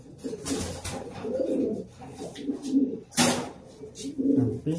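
Domestic pigeons coo in soft, repeated throaty rolls close by, the calls overlapping almost continuously, with a couple of sharper flaps or bumps in between.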